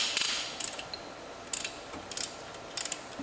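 A hand ratchet works loose the head bolts on a Harley motorcycle engine, its metallic clicking arriving in short, sharp bursts separated by brief pauses, close and clear with no talking.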